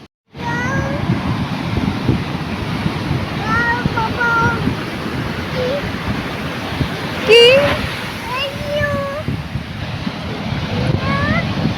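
Sea waves wash in on a beach at Visakhapatnam with a steady roar and wind buffeting the microphone, while voices chatter and call out over the surf.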